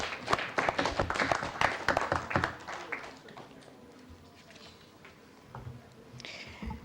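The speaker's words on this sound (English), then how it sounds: "Give her a round of applause for me." A burst of applause from an audience, dense clapping that swells loudly for a few seconds and then thins out and fades.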